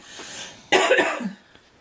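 A single close, raspy, tickly cough bursts out against a low background hum inside a house, followed by a brief breathy tail.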